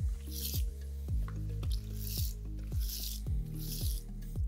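A drill-driven brush scrubs a wet boat detailing pad, giving rhythmic squishing, wet slapping pulses about twice a second over a steady low motor hum, close and continuous.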